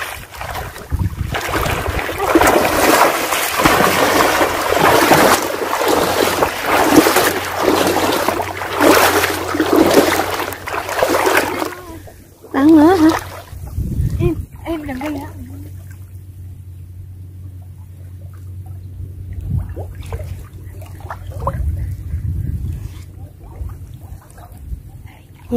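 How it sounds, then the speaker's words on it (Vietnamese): Floodwater waves in a flooded rice field slap and splash against a small boat, a loud close churning wash with wind rumble that fades into softer lapping and scattered splashes. "sóng nước chập chả chả nè"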